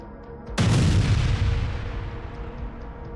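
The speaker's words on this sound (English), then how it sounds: "Hitting the tank from behind, the impact caused a massive explosion, leaving the vehicle in flames." Tank struck from behind and exploding, a sudden loud blast with a heavy low-end boom that rolls and decays into a long rumbling tail, with no talking.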